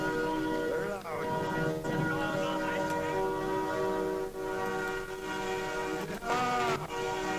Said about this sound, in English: we got the air horn symphony happening, and it sounds fantastic